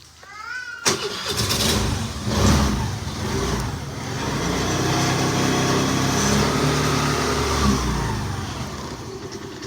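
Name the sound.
Honda Activa 125 scooter engine starting and running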